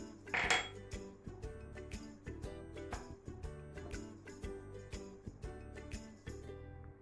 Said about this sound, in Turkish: şimdi tuzla unumuzu karıştıralım